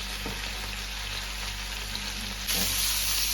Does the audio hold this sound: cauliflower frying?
yes